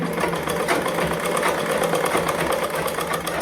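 A sewing machine runs continuously at steady speed while stitching elastic into a salwar waistband, a close, loud rapid whirring clatter with an even mechanical rhythm and no talking.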